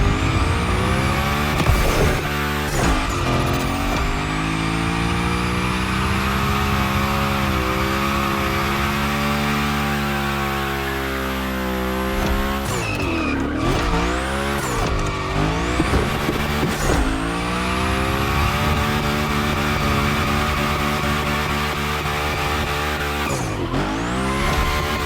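Hoonigan car in The Crew Motorfest's Gymkhana Grid event, a loud revving engine with sweeping pitch shifts and long screeching tire squeals through drifts, near and continuous with no talking.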